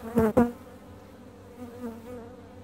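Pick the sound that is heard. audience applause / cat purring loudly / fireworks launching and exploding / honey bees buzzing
honey bees buzzing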